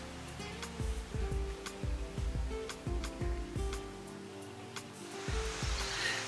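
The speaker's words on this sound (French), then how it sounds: "J'entends la cascade." A steady rush of distant falling water fills the background, faint and continuous, at a waterfall in Bosnia, with low rumbling thumps and a brief rise in hiss near the end.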